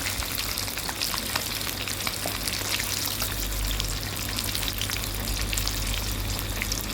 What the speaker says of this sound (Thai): ทอดให้อีกข้างหนึ่งเหลืองนะคะ เหลืองกรอบเลย